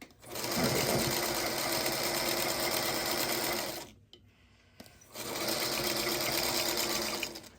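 Sewing machine stitching quilt block pieces, a steady loud whirring run of about four seconds, a brief pause, then another close continuous stretch of stitching.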